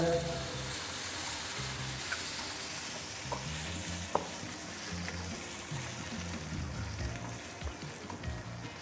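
Garlic and ginger frying in oil for a peanut chutney, a steady close sizzle with stirring scrapes and one sharp clink partway through, no one speaking.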